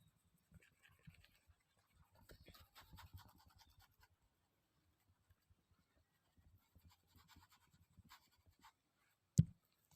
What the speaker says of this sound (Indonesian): Karena saya akan melanjutkan dengan menghapus ini. Baik, saya hapus terlebih dahulu.